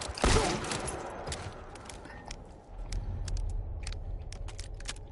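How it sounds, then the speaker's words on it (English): Gunfire in The Last of Us Part 1, a loud close shot at the start and then a string of fainter, scattered distant shots over a low rumbling ambience. "Oh, someone else is shooting as well."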